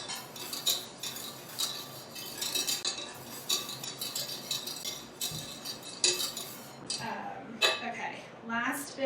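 Whisk clinking rapidly against a bowl while butter is beaten into a sauce for eggs Benedict, a fast rhythmic metallic scraping, heard faintly under kitchen noise with people talking.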